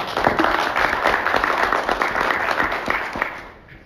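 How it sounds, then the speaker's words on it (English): A crowd applauds steadily with dense clapping throughout, fading out near the end. "A big round of applause to Mr. Bowden for all his work."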